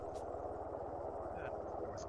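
A Black Hawk helicopter in a realism military video game thuds with a steady rapid rotor chop, moderately distant, under talk from players on a radio.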